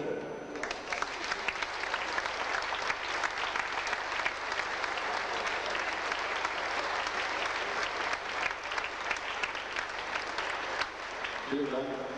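Sustained applause from a festival audience at a 1995 musicians' show in Flieden, dense steady clapping filling the whole stretch with no break, close and loud.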